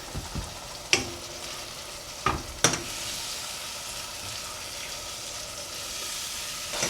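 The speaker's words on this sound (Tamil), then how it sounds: "ஒரு சின்ன மீடியம் சைஸ் தக்காளி அரிஞ்சு வச்சிருக்கேன். இதையும் கூட சேர்த்து வதக்கிடலாம்." Chopped tomato added to a pan and sautéed for a Tamil fish curry gives a steady low sizzle, broken by a few sharp clacks of a spoon stirring against the pan, close and moderately quiet.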